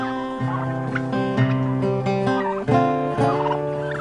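Turkeys gobble loudly and repeatedly, several birds overlapping in a continuous, rattling chorus close by.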